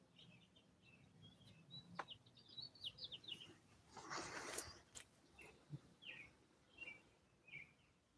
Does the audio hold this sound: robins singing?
yes